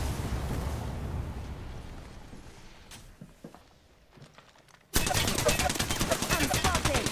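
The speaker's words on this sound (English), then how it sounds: "I'm spotted. Taking fire. They spotted me. I'm taking shots." Gunfire in Apex Legends, a loud sudden burst of rapid automatic shots erupting after a quieter stretch of game ambience and continuing steadily to the end.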